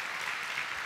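Brief burst of applause from a church congregation, many hands clapping steadily at a moderate distance with no one speaking.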